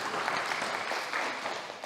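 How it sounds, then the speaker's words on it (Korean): A congregation at a Sunday service in a Korean mission church in Berlin breaks into steady, full applause that lasts the whole moment. "우리 박수로 환영하겠습니다."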